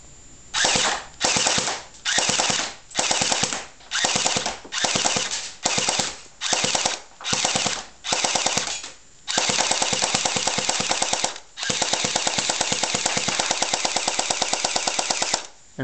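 A compact Scorpion weapon in a video game, whose magazine feeds poorly, fires about ten short, evenly spaced bursts, then two long sustained strings of rapid automatic fire, loud and close.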